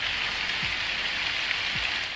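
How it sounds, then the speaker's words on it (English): Steady rain sounds from the Calm app on a phone: a dense, even hiss of rainfall on a surface, continuous and moderately loud with no talking. "It plays like rain sounds, and sometimes I fall asleep to them"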